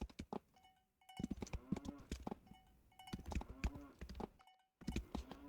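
Video game cows moo and low repeatedly in a short burst, with clanking bells and hoof clops mixed in, fairly close and without speech.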